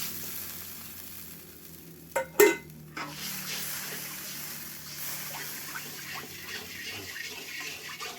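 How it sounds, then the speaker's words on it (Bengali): Water poured into fried masala in a pan for a Bengali mustard puti fish curry gives a brief loud splash and hiss, then a steady soft sizzle and bubbling simmer. "এবার আমি পরিমাণ মতো জলটা দিয়ে দেবো"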